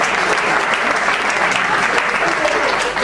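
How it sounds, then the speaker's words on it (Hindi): Dense, loud applause from the audience at a Hindi comedy poetry show, a continuous roar of many clapping hands lasting three seconds with faint voices blended into the crowd noise. "तो आप अपने लिए एक बार तालियां बजा सकते हैं।"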